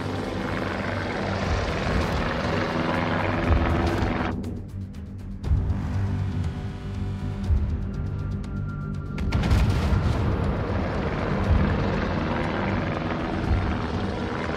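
A spotter plane drones steadily overhead in World of Warships, a continuous propeller engine hum over ship ambience, with a few muffled thuds and brief dips where the engine fades before returning.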